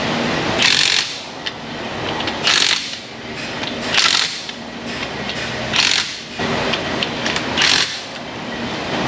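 A Blue Point impact gun or wrench runs nuts down to 80 foot-pounds in about five evenly spaced whirring bursts, close and fairly loud, in a repair shop with a steady background hiss.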